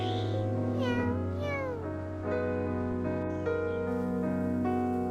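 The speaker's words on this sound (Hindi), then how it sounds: "ये बिल्ली कई दिनों से भूखी थी" A hungry, weak cat meows repeatedly, clear, close and drawn out, with several rising and falling cries over a faint steady background hum.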